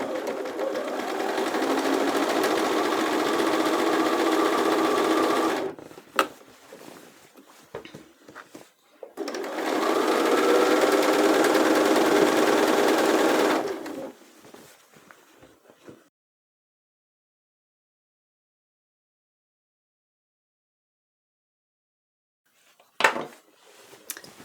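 A sewing machine stitches elastic into the fabric of a pair of work pants, in two long steady runs with short pauses between them, close and loud, followed by quiet handling sounds and a sharp click.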